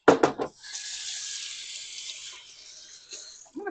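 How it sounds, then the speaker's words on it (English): A kitchen tap runs steadily while hands are washed, a close hiss of flowing water that begins after a couple of brief knocks and ends with a faint clunk. "let me wash my hands."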